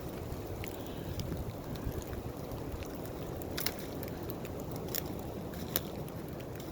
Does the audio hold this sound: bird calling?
no